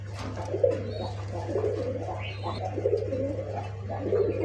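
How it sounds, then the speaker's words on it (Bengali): A pigeon coos repeatedly in a steady series of soft, low calls, fairly close, over a constant low electrical hum; a nesting female sitting on eggs is calling. "কবুতরটা আসলে প্রচুর ডাকে"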